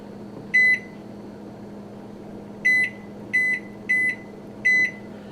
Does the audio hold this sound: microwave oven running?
yes